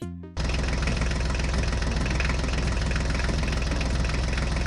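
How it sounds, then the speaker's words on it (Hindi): HMT tractor engine starting and then idling steadily, a loud close diesel chug with a constant even rhythm running alone through the rest. "चलो चलो ड्राइवर, जल्दी से HMT ट्रैक्टर को लेकर गोकू के पास चलते हैं।"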